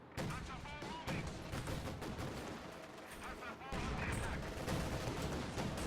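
Artillery fire in the Company of Heroes 2 game on the Hurtgen Forest map, with heavy, continuous barrages and explosions rolling throughout, growing louder in the second half.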